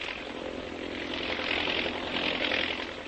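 An army propeller airplane flies ahead of a mechanized column in an old radio drama, heard as a steady droning engine roar that swells slightly and holds throughout, with no speech.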